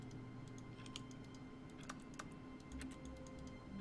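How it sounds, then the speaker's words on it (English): Office keyboard clicking and typing in The Stanley Parable, soft irregular keystrokes tapping away at close range over a quiet low hum, faint and without voices. "I can only make clicking noises when I'm not looking at my computer"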